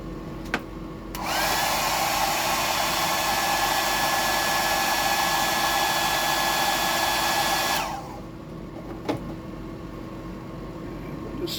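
A hair dryer runs steadily for about six seconds, drying paint on a bass fishing lure, a loud even whoosh that starts and stops abruptly, with a few soft clicks around it.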